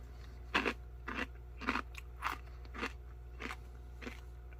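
Crunchy corn nuts from a 2017 First Strike MRE ration are chewed close to the mic, giving about eight sharp, evenly spaced crunches over a low background hum.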